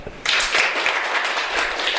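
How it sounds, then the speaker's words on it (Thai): An audience at a goal-setting talk breaks into applause, a sudden dense burst of many hands clapping that starts sharply and holds steady and fairly close. "มีเสียงปรบมือหน่อยไหมครับ"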